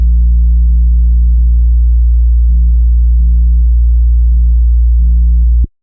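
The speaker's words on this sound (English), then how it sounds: "Both the sub 808 and the regular 808 are being fed into a bus. And then I've got Saturn on here." Deep, loud 808 bass with light Saturn distortion, sub and regular 808 layered on a bus, recreating the bass from a song, sustained tones that step in pitch in a repeating pattern before cutting off abruptly.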